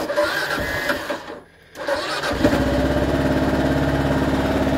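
A Kawasaki KLR 650 motorcycle with a fault that makes it stall under throttle idles with a steady, chugging, loud mechanical beat. The sound drops out briefly near the start, then settles into an even idle.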